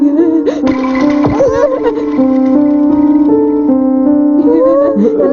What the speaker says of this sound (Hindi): ये तो पियानो की आवाज है।